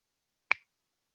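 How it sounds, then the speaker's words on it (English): One crisp finger snap, close and distinct, against complete silence. "Snap again."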